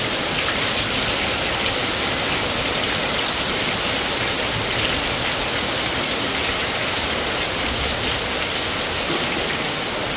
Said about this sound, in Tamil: மழையை பாருங்க. மழை எப்படி பெய்யுது.